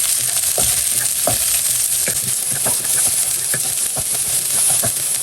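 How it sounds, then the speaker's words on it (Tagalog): Garlic, onion and a little ginger sizzle hard in hot oil in a pan, a loud steady frying hiss broken by clinking stirs of a utensil against the metal, with no talk. "Magigisa na po tayo ng bawang, sibuyas at kaunting luya."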